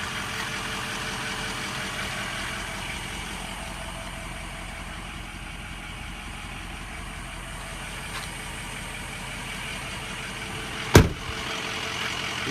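A 2004 Ford F250 King Ranch with the 6.0 diesel engine idles quietly and steadily, a continuous even rumble with a single sharp click near the end.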